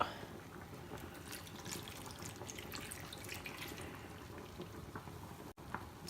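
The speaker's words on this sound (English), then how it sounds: "now I'm going to add in the Pepsi Max and I'm just going to put that all over the top" Pepsi Max pours from a bottle over chicken in a cooking pan, making a quiet, continuous liquid splash and trickle that lasts several seconds, with no voices.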